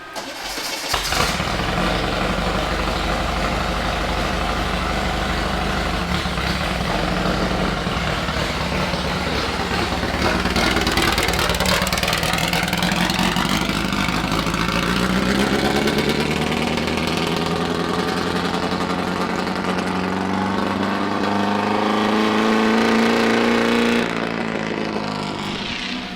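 A sand rail engine, freshly rebuilt, starts and runs steadily, idling loud and close with rising revs in the second half before dropping back.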